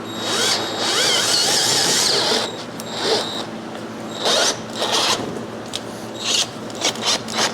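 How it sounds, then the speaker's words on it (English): A 7/8 drill bit grinds loudly into a clamped aluminum housing for a couple of seconds, then comes in shorter bursts of harsh, rasping cutting with brief pauses between. "7/8 drill bit through aluminum on a clamped housing"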